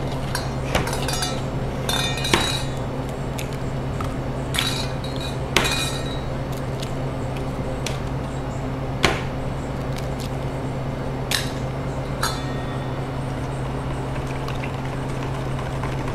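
Eggs go into crepe batter in a bowl, heard as a series of sharp clinks and taps against the bowl and utensils, scattered irregularly across a quiet kitchen background with no talking.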